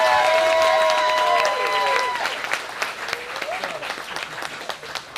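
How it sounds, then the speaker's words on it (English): A crowd applauds steadily, clapping filling the room while a few voices and a brief tonal sound linger at the start. "So I'd like to give them another round of applause."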